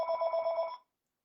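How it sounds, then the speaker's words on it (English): Telephone ringing for an incoming call, a short, loud electronic ring with a rapid trilling pulse lasting under a second, then stopping abruptly into silence. "I got a phone call."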